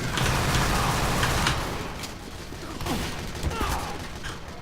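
Rapid bursts of gunfire, including shotgun blasts, in a Team Fortress 2 match, a dense crackling barrage that eases midway and then resumes with scattered sharp shots, fairly loud and close.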